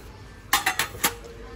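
Brass puja plates clink together as they are handled in a utensil shop: four sharp, bright metallic knocks in quick succession, close and fairly loud, then quiet.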